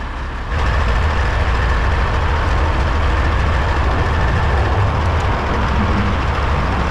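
A truck engine runs steadily with a torn, damaged exhaust after a hit-and-run collision, giving a loud, continuous low rumble and rattling roar that holds for several seconds after a brief quieter start.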